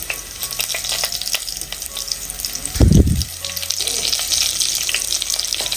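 Curry leaves hit hot oil with fried onions, crackling and hissing throughout, with a sudden louder burst of sizzle in the middle before settling back into a steady fry.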